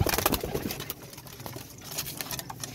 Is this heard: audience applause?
no